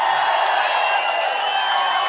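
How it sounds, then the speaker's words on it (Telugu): A large crowd claps at a TDP Prajagalam political rally in Payakaraopeta, a dense, continuous wash of applause from many hands, steady and fairly loud throughout. "గట్టిగా చప్పట్లు కొట్టి మేము ఆశీర్వదిస్తాం"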